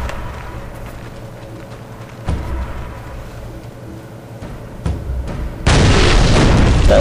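Explosions boom in the Warhammer 40K strategy game Dawn of War Winter Assault, with two muffled thumps followed by a loud, sustained blast roaring to the end, and no voices.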